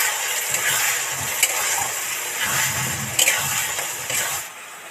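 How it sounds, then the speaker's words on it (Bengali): Turmeric, cumin, coriander and chili powders sizzle and fry in oil in a pan for a chicken and potato curry, a constant close hiss with occasional stirring scrapes and pops, no voices. "হলুদ গুঁড়ো, জিরে ধনে মরিচ গুঁড়ো দিয়ে দিলাম, করে কষতে থাকবো।"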